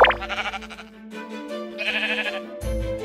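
Sheep in the video game Minecraft bleat several times in a row, with short wavering cries that start and stop. The bleats sound close and clear, with no talking over them.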